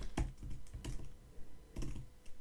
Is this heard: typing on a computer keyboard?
yes